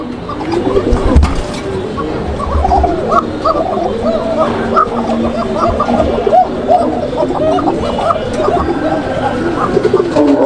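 A pair of Koka pigeons coo in a repeated, rolling, throaty pattern that stays close and steady throughout, with faint background noise and some handling sounds.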